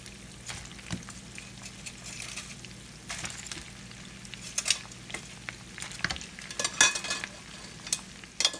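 Chicken wings are shaken in sriracha sauce, giving soft, wet sloshing and rattling in bursts that grow busier toward the end, with faint clinks over a low steady background and no voices.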